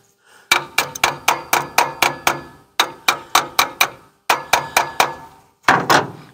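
Something taps on top of the carburetor of a 1962 Ford Falcon Ranchero, a string of sharp metallic clunks in quick rhythmic bursts separated by short pauses, close and loud with no talk.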